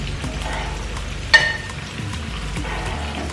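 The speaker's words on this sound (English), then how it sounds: "the first thing you want to do is melt a little bit of butter in that pan" Butter melts in a pan with a soft, steady sizzle, quiet and close, with one brief clink partway through.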